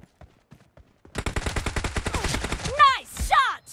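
Rapid automatic gunfire in PUBG team deathmatch gameplay, a fast steady burst of close shots lasting about two seconds, followed by short shouted voice lines.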